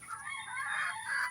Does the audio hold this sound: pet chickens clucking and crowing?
yes